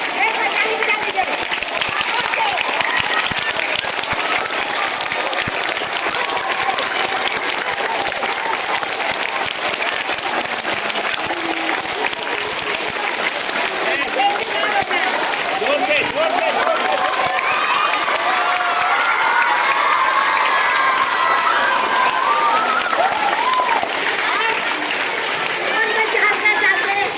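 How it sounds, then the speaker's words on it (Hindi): Yoga day participants clap together as a large group, a dense, steady burst of applause that continues at a high level throughout, with crowd noise mixed in. "एक बार ताली बजा लीजिए।"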